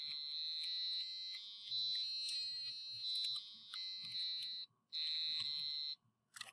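Shrill, buzzy electronic tones from an ESP32 DAC step through a short sequence of steady notes in a lower octave, harsh and piercing, with brief gaps near the end.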